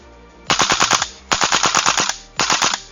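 A gas-powered film prop gun fires on automatic in three rapid bursts of about five to seven loud cracks each, with short pauses between bursts.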